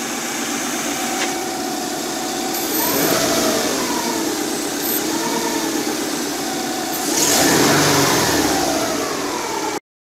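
A 1998 Subaru Legacy GT with the 2.5-litre EJ25 engine runs at idle, then gets revved twice in brief swells, close and steady, with no talk.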